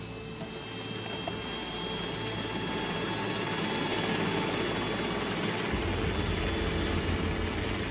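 A helicopter drones loudly and steadily from inside the cabin, a constant engine whine and rotor rumble with no voices.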